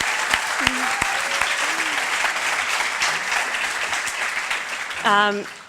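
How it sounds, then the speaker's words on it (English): Warm audience applause at an awards event, a full, continuous patter of many hands at steady loudness, with brief whoops and a voice speaking as it winds down at the end. "Can we please give her a big round of applause?"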